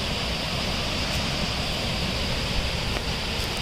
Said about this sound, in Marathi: आता इथं आहे भीमा काय धबधबा